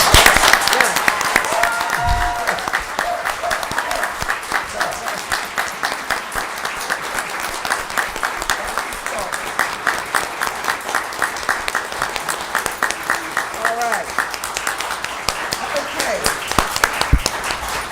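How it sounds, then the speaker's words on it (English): Council members and the audience at a Rialto city council meeting give a round of applause, with steady, rapid clapping continuing throughout and some voices talking under it. "Give ourselves a round of applause."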